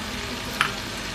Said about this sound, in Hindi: अब इसमें मैं डालने लगी हूँ दही।